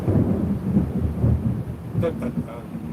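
Low thunder rumbles on steadily through a summer storm on the water, with a rough, rolling texture and a brief sharper crackle near the end, and no voices over it.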